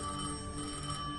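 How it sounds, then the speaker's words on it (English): A telephone bell rings steadily in a video game, a sustained electronic ring with bright tonal lines that stays even and fairly quiet throughout, with no talking. "I knew if I didn't pick up that phone, I'd regret it for the rest of my life."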